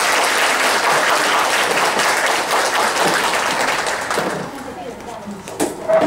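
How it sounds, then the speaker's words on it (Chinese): Audience of parents applauding the school principal at a primary school parenting talk, dense sustained clapping that fills the room for several seconds before thinning out, with a few scattered claps and faint voices near the end. "掌声，谢谢他"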